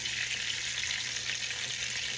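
Chicken pieces frying in hot grease in a pan, giving a steady, dense sizzle that holds evenly throughout with no voices over it.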